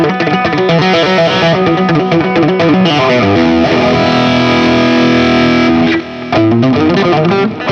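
Guitar picked with the fingers in a detailed, acoustic-like tone, a steady run of layered notes and sustained chords that rings loud and close for about six seconds, with a brief dip before playing resumes.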